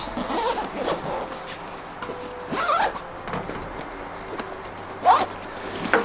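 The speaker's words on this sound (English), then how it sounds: "Zip up the front." Zipper on the front pocket of a camera backpack: several short rasping zips with gear handling and rustling between them, close and clear, no talk.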